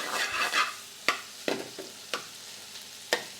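Keema frying in a pan with onions, ginger and garlic, a steady close sizzle broken by several sharp stirring scrapes and clicks of the spoon, with no talking.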